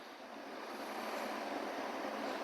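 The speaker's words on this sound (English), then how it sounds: "The trees were blowing, lots of wind coming along" Gusty wind blowing outdoors past trees, heard as a steady broad rushing roar that swells slightly louder toward the end, with no voices.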